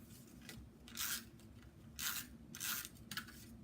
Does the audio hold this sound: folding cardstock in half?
yes